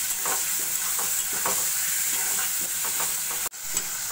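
Brinjal masala mixture with turmeric and salt stirred in a hot pan, a steady sizzle with a spoon scraping through it in repeated strokes, close and continuous, briefly cut off near the end before resuming.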